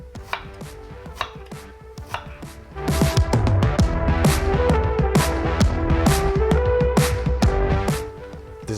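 A knife finely minces ginger on a cutting board. The close, crisp chops start sparse and then become a fast, steady rhythm that continues to the end.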